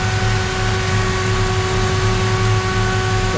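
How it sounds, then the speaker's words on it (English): A 1957 Chevrolet Bel Air's inline-six engine idling steadily and loudly up close, a constant low rumble with a faint whine, no talk. "But again, engine sounds fantastic."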